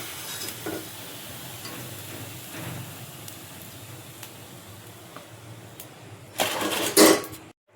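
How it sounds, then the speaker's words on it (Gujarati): Papad fries in hot oil with a steady, fairly loud sizzle and light scattered ticks, swelling into a brief, louder crackling burst near the end, with no talk. "પાપડ તળી લઉં।"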